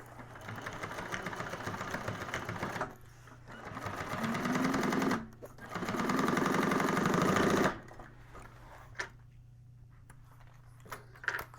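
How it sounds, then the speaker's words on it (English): A sewing machine stitches a Scottie convertible bag with a drop-in lining, whirring in two sustained runs of a few seconds each, separated by short pauses, then falling quiet with a few small clicks. "So first off, pull the exterior away and sew down there."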